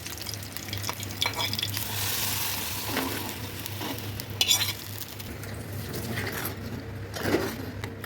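Curry leaves frying in hot oil with mustard seeds, fenugreek and shallots, a tempering for mango pulissery: a soft, continuous sizzle with stirring scrapes and utensil touches, no voices.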